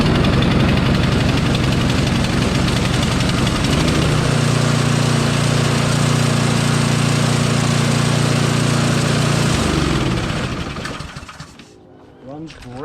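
A Toro 826 snowblower engine starts from cold and runs at a loud, steady idle for about ten seconds, then shuts down and fades out.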